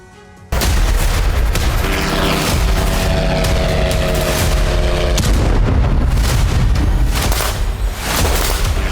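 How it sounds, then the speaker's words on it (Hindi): FAB-500 aerial bombs detonate in a war zone, giving loud, deep, rolling blasts that start abruptly after a short quiet moment and rumble on continuously, with overlapping booms. "कब्जे वाले इलाकों में रूस फैब 500 बम से हमला कर रहा है, ताकि यूक्रेनी सेना को बच के निकलने का मौका ना मिले।"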